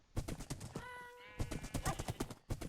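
A horse in a video game gallops with rapid, close hoofbeats, breaks off for a long whinny partway through, then picks up the beat again.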